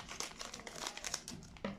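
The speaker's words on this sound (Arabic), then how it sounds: "ومعايا كيس نشا" A bag of starch for coating fish, crinkled and handled in a home kitchen, giving a run of close, dry plastic rustles and crackles with a sharper crunch near the end.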